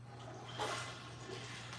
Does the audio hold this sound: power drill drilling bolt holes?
no